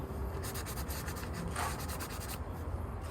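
Hand scuffing of plastic WRX aero parts, a diffuser, spats and spoiler, before painting: steady rhythmic abrasive rubbing strokes, close and fairly quiet, with no talking.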